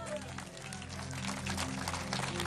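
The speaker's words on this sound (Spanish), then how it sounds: "Fuerte aplausos a Cristo Jesús" Applause in a church service to praise Jesus, a dense patter of many hands clapping close by at a steady level, with voices mixed in.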